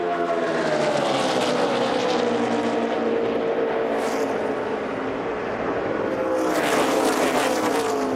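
NASCAR stock cars lap during qualifying for the 2014 Geico 500, a loud continuous engine roar with a sustained howl that rises and falls as packs pass, with brief surges near the end.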